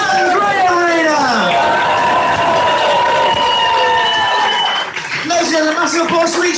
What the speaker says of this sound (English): massive applause to each and every one of you for coming out and supporting them